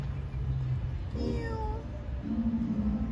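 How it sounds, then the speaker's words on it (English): A single drawn-out meow from a street cat in Brooklyn, New York, close by, over a low rumbling background; a second, lower cat call follows briefly. "Oh, we got a free kitty over here."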